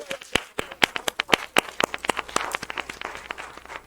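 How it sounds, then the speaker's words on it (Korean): Scattered applause from a congregation in a Korean Sunday church service, sharp, distinct individual claps rather than a dense roar, fairly close and irregular, thickening slightly toward the end. "우리 하나님께 영광의 박수 한번 올려주세요"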